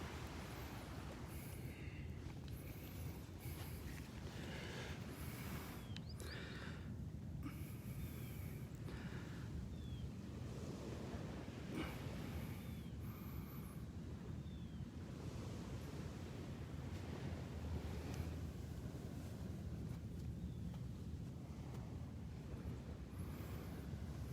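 Waves wash steadily onto the beach at Delnor-Wiggins, a constant soft surf hiss mixed with gusty wind buffeting the microphone, faint and without voices.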